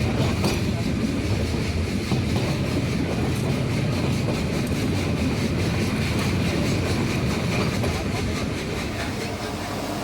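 Nilgiri toy train rolling from Mettupalayam toward Ooty, a continuous close rumble of wheels and carriages with a rapid rhythmic clatter running through the whole stretch.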